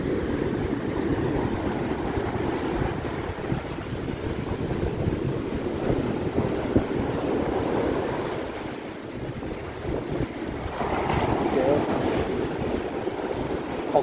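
Big ocean waves crash and surge steadily at Boracay in stormy October weather, a loud continuous roar of surf mixed with gusting wind buffeting the microphone, swelling again near the end.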